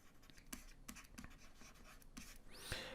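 A pen scratches and taps on paper while writing out a maths probability answer, very faint and close, with small irregular strokes and clicks.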